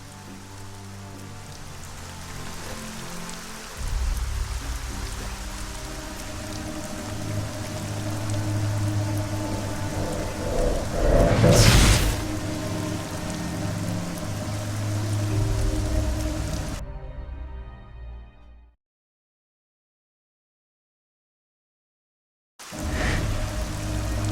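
Steady rain pours down in the marshlands of the video game Arcania: Gothic 4, with a loud rumbling thunder crack near the middle, then the sound cuts to silence before the rain resumes.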